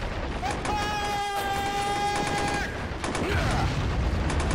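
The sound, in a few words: gunfire exchange in video game Men of War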